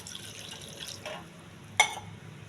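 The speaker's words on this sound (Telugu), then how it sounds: "ఒక గ్లాసు వాటర్ వేసి" Water from a glass is poured into a cooking pan for a drumstick curry, giving a few faint, brief splashes and trickles with a sharper splash near the end in a quiet kitchen.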